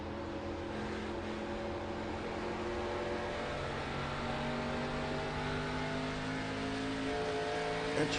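Stock race cars from a Midwest Winston Cup Series event accelerate at a restart, making a loud, continuous engine roar with rising tones that fills the whole stretch, no voices over it.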